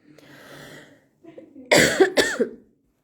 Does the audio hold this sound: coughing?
yes